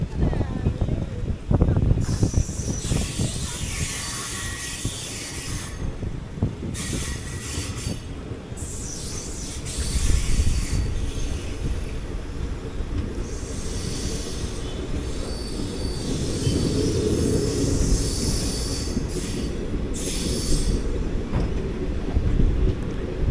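The 16128 Guruvayur Chennai Express pulls out of Manapparai station, heard from inside an AC 3-tier coach as a continuous rumble with clacking wheels and squealing rails that builds over time, and a voice talks over it.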